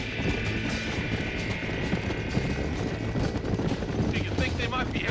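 Horse hooves gallop in steady, rapid clip-clop beats in the Red Dead Redemption game, running continuously at a close, moderate level while a voice talks over them.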